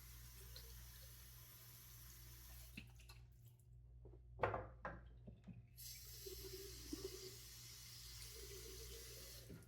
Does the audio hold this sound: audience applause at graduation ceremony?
no